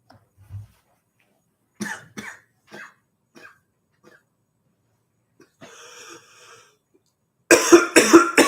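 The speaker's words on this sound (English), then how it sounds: "So it's going into like coughing fits during the session." Coughing fit from a person: a short low cough near the start, a burst of several coughs with throat clearing, a quieter rough stretch, then a loud run of rapid close coughs at the end.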